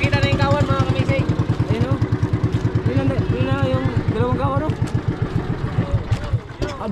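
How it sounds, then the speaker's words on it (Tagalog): A fishing boat engine chugs loudly in a fast, steady rhythm, close by, before faltering near the end, with voices talking over it. "Aboy, patay na naman yung makina."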